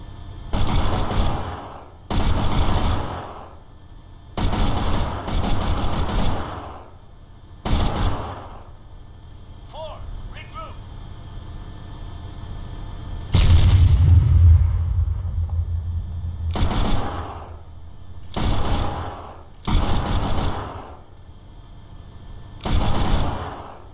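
Gunfire in the military shooter game Arma 3 during an assault on the Altis airfield: loud, heavy bursts and booming volleys in irregular clusters, each trailing off into rumble, with no voices over them.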